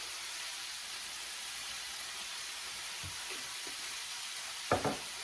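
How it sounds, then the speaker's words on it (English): Shakshuka sauce sizzling in a pan under a steady close hiss, with a few soft scraping stirs near the end. "Gonna give it a good stir."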